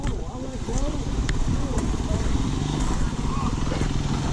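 A Kawasaki KLR650 motorcycle with a stuck throttle runs steadily and loud at a creek crossing, a continuous engine roar with some clatter throughout.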